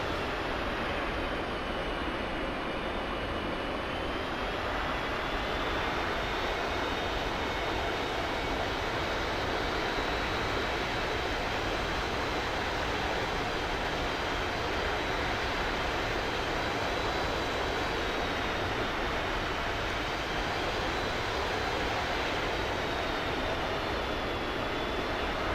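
Jet engine of an AV-8B Harrier in the DCS flight simulator, taxiing: a steady, loud whining roar with a continuous high-pitched hiss, unbroken and constant for the whole stretch.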